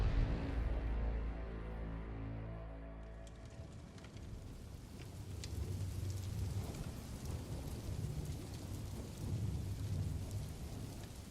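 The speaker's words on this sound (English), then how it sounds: "The October rain drummed a steady rhythm against the tall windows of Wayne Manor as Bruce Wayne descended into the depths" Steady heavy rain patters against tall windows while a low rolling rumble of thunder fades out early, leaving a continuous dense hiss of downpour with surges in intensity.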